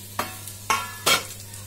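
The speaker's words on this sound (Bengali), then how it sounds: "এবার দেখি কতখানি আলুটা সেদ্ধ হয়েছে অ্যান্ড ভাজা হয়েছে।" Potatoes fry in a pan while a utensil stirs them, producing three distinct scraping strokes over a steady background hum, with a faint sizzle between them and no speech.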